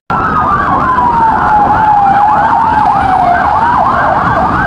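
Loud wailing sirens sweep up and down continuously, close by, with a steady rumble of traffic underneath.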